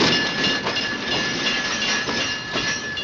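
A company-owned railroad's ore train bound for the Anaconda smelter rumbles steadily, its cars rolling with a continuous broad roar and faint rhythmic wheel clatter, close and sustained.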